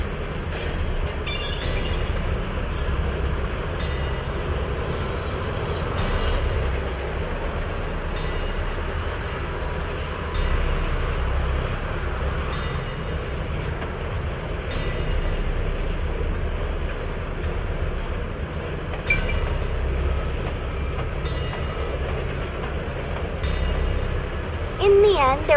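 Train car rumbling through a tunnel in the video game Master Detective Archives: Rain Code, a steady, loud low-end roar and rattle that runs the whole time with faint game voices in the background.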